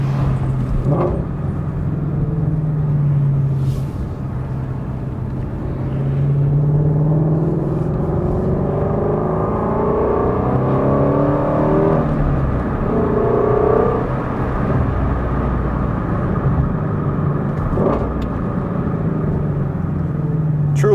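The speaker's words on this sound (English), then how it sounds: "Let me put the window down a little bit so we can hear some of that V8 noise." A Ford Mustang Shelby GT350's flat-plane V8 drones steadily from inside the cabin with the window partly down, its low rumble rising and falling slightly as it cruises and accelerates.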